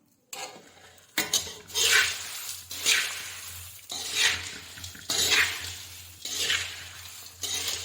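Spoon scraping and clattering around a dish while a homemade snack mixture is stirred, in repeated strokes roughly once a second, close and fairly loud, with no talking.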